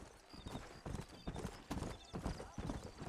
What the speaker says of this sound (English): Oh, forgot to stop the horse though.